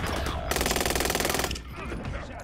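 A rapid, loud burst of automatic gunfire in a video game shootout, about one second of tightly spaced shots hammering an enemy, with game sounds before and after.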